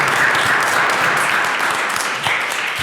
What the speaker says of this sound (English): let's have a round of applause from the guys from VFW Post 25